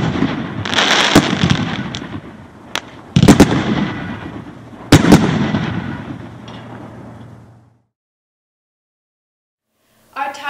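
Mount Rushmore firework cake set fires a rapid run of sharp launches and heavy booming breaks, several loud bursts with crackling tails, then a fade into silence before another burst starts at the very end.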